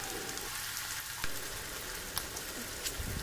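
Onions sizzle and fry steadily in a pan, a dense, even crackle with a few sharper pops, heard up close with no talking.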